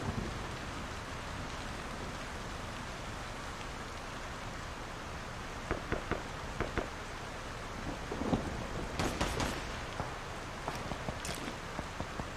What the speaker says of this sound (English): A little tough to tell with the rain.